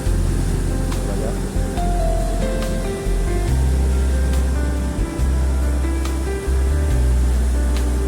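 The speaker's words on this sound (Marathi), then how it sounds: "एवढं पाण्याचा स्पीड आहे" Fast-flowing floodwater after heavy rain near Trimbakeshwar, Nashik, roars in a steady, loud, broadband rush from start to end, with a voice faintly over it.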